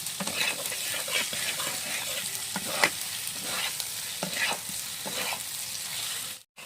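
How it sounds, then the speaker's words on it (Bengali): Whole spices browning in hot oil in a pan for a fish-head muri ghonto are stirred with a spatula, giving a steady close sizzle broken by irregular scraping strokes, with no talk. "আমি একটুখানি নাড়াচাড়া করে নেব। একটুখানি মশলাটা আরেকটু ভাজা হবে"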